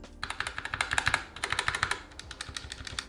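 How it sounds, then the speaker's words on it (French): Rapid keystrokes clatter on a mechanical keyboard with red switches close up, a quick irregular patter of soft clicks with no talking. "je vous fais entendre rapidement quel est le son de ce clavier"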